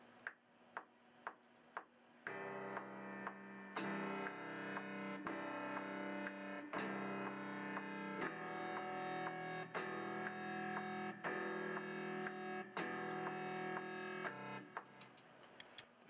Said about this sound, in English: Next thing we're going to add is this synth. It sounds a little different, like this.